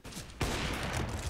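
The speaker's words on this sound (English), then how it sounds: "they're both just standing and firing" Sustained gunfire in Counter-Strike: Global Offensive during a FURIA vs. FunPlus Phoenix pro match on Inferno, with a sharp shot followed by dense, rapid continuous firing that stays loud and close throughout.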